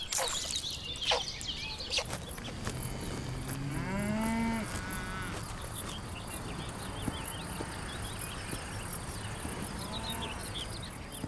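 Several cattle moo in long, low drawn-out calls amid a steady outdoor drone of insects, with occasional faint birdsong.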